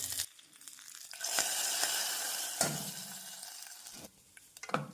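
A tempering of mustard seeds, urad dal, cumin, dried red chillies and curry leaves is poured into cooked dal. A loud hiss and sizzle swells and fades, broken by a few clanks of a metal pan and spoon.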